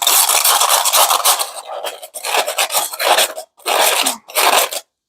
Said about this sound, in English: Now, if you want, you can get a little bit of sandpaper.